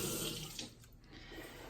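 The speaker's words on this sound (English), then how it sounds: "you slice them lengthwise and you place them in some water, and that's gonna help flush out all the dirt" Running tap water filling a sink or bowl where sliced leeks soak to flush dirt from their leaves, a steady close wash of flowing water with no talk.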